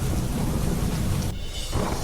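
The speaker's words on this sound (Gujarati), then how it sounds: "દાહોદમાં ભારે વરસાદ વરસતા" Heavy monsoon rain pouring in Dahod, a loud dense roar of water with deep rumbling underneath that briefly dips before surging back, close and continuous with no voices.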